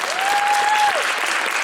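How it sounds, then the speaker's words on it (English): A fan convention crowd at a horror actor's Q&A panel breaks into loud, continuous applause, close and full throughout the short stretch with a faint whistle riding above the clapping. "let's give him a big round of applause for all that"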